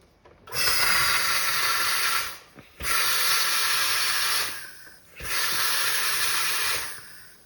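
Three long pressurized hissing bursts from a SodaStream injecting CO2 into water, each about two seconds with short pauses between, loud and close.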